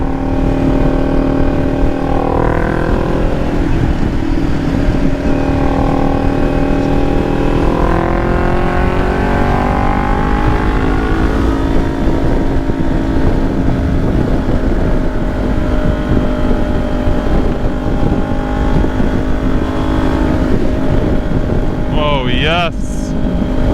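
A Kawasaki Ninja 400 cruising at highway speed, its engine drone rising and falling through gear changes under loud, constant wind rush, with a rider's voice briefly audible near the end.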